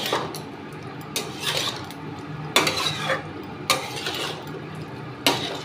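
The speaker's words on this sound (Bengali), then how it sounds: "এবারে ভালো করে সবগুলোকে সুন্দর করে মিশাবো।" Paneer is being stirred into a spice mixture in a pan, with repeated scraping and clinking strokes of a utensil against the metal at an uneven rhythm, close and fairly loud over a faint background hiss.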